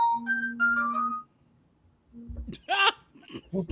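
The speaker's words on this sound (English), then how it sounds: "Me getting a phone call for a reminder of therapy tomorrow." A phone ringtone from an incoming call chimes in a short melodic run of bright tones, then stops; after a pause, a voice begins talking.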